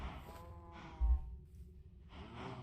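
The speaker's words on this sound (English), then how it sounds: "So I have no more escaping cows, except for this little lonesome guy." A cow in modded Minecraft gives a single short, low moo near the middle, with faint ambient game sounds around it and no talking.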